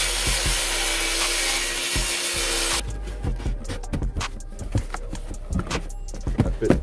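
A wooden base plate for an engine-part shipping crate is trimmed, with a few seconds of steady cutting noise followed by knocks, scrapes and rubbing of wood as it is handled and fitted.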